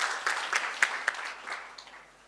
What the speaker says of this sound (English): A round of applause for Dr.